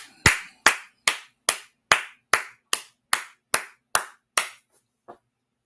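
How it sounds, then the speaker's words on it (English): Single pair of hands clapping slowly and evenly, eleven sharp, close claps at a steady beat followed by a softer twelfth, with no talk. "Everybody, clap it up."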